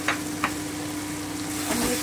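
Boiled moong dal hits a hot pan with a steady, close sizzle. Faint scraping sounds break through as it is stirred and sautéed.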